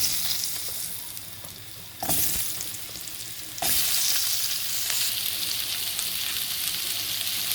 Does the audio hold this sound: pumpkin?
yes